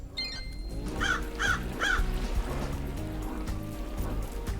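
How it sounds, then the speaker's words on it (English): Crows caw three times in quick succession in the video game Paradise Killer, moderately loud over a steady ambient wash of flowing water and low drones. "Oh, birds."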